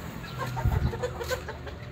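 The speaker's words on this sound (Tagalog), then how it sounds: "dito may konti ako dito mga breeding na mga manok" Breeding chickens cluck on a farm, a few short close clucks over a low background, with brief faint voices nearby.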